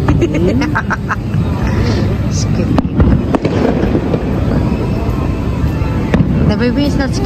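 Downtown Independence Day fireworks pop and crackle in repeated bursts over a busy outdoor crowd, with people chattering nearby throughout.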